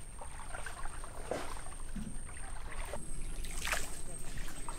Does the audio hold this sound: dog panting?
no